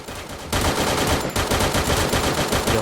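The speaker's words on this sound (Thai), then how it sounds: "ใครยิงมาจากทางไหนเพื่อน" Rapid, loud automatic gunfire in the battle video game Free Fire breaks out after a brief quieter moment and rattles on continuously to the end.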